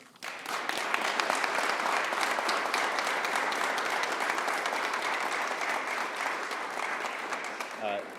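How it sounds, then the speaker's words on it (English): Thunderous applause from an audience at a business center event fills the room, a dense, steady wash of clapping that holds loud and even for several seconds. "please join me in another thunderous round of applause"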